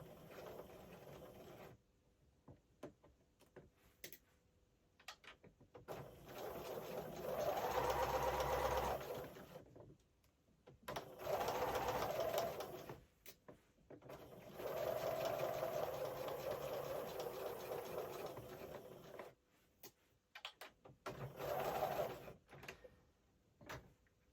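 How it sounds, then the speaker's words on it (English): A sewing machine stitches lace cut from an old wedding dress for a Christmas bauble. It runs in four or five separate bursts of steady mechanical whirring, each a few seconds long, with quiet pauses between them. "I'm going to sew from that point that's not quite at the top all the way down."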